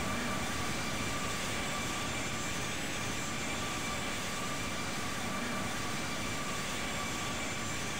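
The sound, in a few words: aircraft engine in Infinite Flight video game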